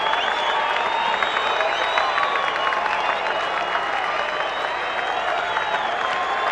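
Cricket crowd at Edgbaston applauding big sixes hit by a batsman: sustained, dense clapping and cheering from a large stadium audience, even and loud throughout.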